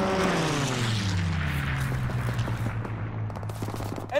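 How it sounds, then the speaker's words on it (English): Fighter plane strafing run in Call of Duty WWII, a loud propeller drone sweeping downward in pitch as the aircraft passes, with rapid machine-gun bursts crackling underneath, no talk. "Fighter pilot inbound. Strafing the target."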